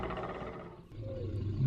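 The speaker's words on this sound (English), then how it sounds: "Bone serpent." A bone serpent mob in the Minecraft game lets out a low rumbling roar that swells toward the end, close and fairly loud with no voices over it.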